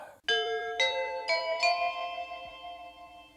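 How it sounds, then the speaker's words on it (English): Simple chiming bells from a 1980s TV production logo ring out in four clear, bright strikes about half a second apart, each note ringing on and slowly fading, with no voices. "the simple bells just kind of take away the fear factor"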